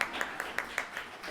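Audience at a Dalai Lama 88th birthday celebration giving a few sparse, evenly spaced claps, quiet and brief, like a small group clapping together.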